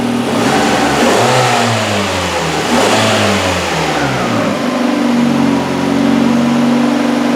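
A Hyundai Elantra with an idle speed fault is revved a couple of times, the engine climbing and falling in loud close sweeps before settling back to a steady idle hum.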